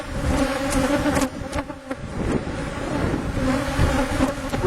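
A loud, close, continuous buzz of many bees fills the air during a hive inspection over stacked boxes, with scattered clicks and knocks from frames being handled and some wind buffeting.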